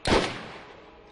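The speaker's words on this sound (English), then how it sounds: "I think I should get the other ones here with my sniper rifle" A single sniper rifle shot cracks in Borderlands, a loud sharp report with a short decaying tail, alone and close.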